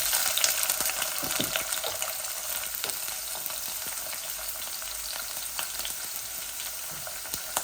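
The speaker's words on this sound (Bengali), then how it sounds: "পেঁয়াজ আর রসুন দিলাইছি। একটু ভাজা ভাজা একটু ভাজা ভাজা হয়ে যাক।" Onion and garlic frying in oil in a pot, a bright continuous sizzle with scattered pops and crackles, close and steady throughout, with no talking.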